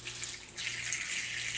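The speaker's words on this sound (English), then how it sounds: "I get some water, pour it at the bottom" Water poured into the bottom of seedling cups holding seed starting mix, a steady close splashing stream that grows fuller and louder partway through, with no talking.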